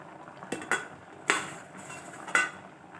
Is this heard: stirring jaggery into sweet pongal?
yes